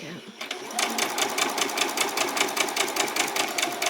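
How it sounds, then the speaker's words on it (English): A sewing machine running a row of stitches on a basic dress, a fast, even mechanical chatter of needle strokes starting after a short pause and continuing close and steady to the end. "let's do another row of stitches"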